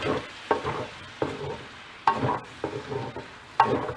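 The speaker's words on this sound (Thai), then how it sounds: "ผัดให้เข้ากันเลยนะคะ" Pork belly stir-fried with soy sauce and garlic in a pan, a steady sizzle broken by repeated scraping stirs of the spatula roughly every second, close and alone.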